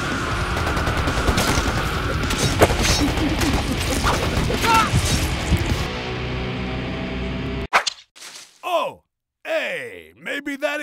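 Rapid bursts of video game gunfire and crashing impacts fill a busy combat scene in an executioner game's gardener episode, loud and dense for several seconds before cutting to sparse, sharp sounds and silence.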